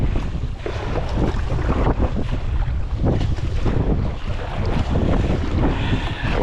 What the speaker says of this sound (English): yeah, I got to experience some waves today.